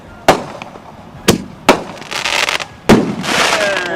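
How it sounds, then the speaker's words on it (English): Fireworks burst at a Starbase Fourth of July celebration: four sharp, loud bangs at uneven intervals, each trailing into crackling sparkle, close by and echoing outdoors. "That was 3 separate fireworks that you just taped together."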